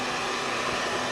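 A hair dryer left running on a craft table, a steady, loud, unbroken whir with a whining tone, alone and without variation throughout.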